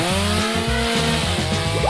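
A chainsaw-style saw grinds steadily through stacked layers of food, its loud buzzing drone broken into short stuttering pulses that run throughout without any talk.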